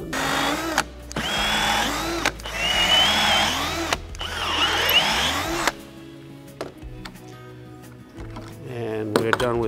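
A drill bores holes into an R8 tool holder workpiece, whining loudly in three separate runs with short pauses between, close by. A voice speaks briefly afterward.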